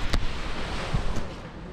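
Sea waves wash in front of a seafront parking lot, a steady broadband surf rush mixed with wind buffeting the microphone, with a couple of brief low thumps.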